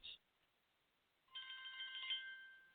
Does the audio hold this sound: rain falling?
no